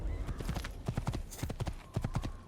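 Steady horse hooves clip-clopping at a walking pace in Assassin's Creed, close and moderately loud, over a low ambient rumble.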